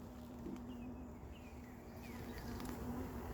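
Low, steady buzzing of many honeybees, including many drones, droning together in an opened hive during an inspection, faint and continuous, with a few brief higher whirs passing by.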